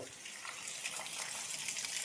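Rainwater gushes and flows steadily through village lanes during heavy rain, a constant rushing wash heard at moderate distance.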